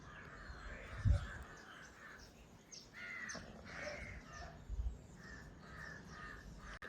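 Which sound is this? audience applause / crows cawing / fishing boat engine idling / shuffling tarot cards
crows cawing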